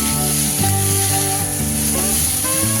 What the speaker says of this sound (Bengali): ওর ওপরেই কিন্তু শাকটাকে দিয়ে একটু নেড়ে নিচ্ছি।